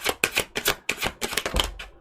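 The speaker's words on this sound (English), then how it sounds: "I'll just be quiet now and shuffle" Rapid, crisp flicking and riffling of tarot cards being shuffled, repeated in quick bursts with brief pauses, close up and fairly loud, no talking.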